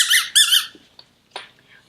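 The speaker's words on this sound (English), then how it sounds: "Then you have what we call as the squeaky toys." Two quick high-pitched squeaks from a rubber dog toy, followed by a couple of faint softer squeaks, close and alone.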